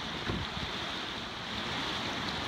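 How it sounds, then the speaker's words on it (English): Rushing white water rapids on the Kennebec River's East Outlet in Maine, a steady broadband roar of churning water with wind buffeting the microphone, loud and continuous throughout. "Here we go, there's some white water."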